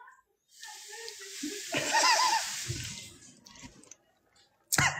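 Tap water runs from a faucet in a steady hissing, splashing stream for a few seconds, close by, then stops, with a sharp clunk at the end.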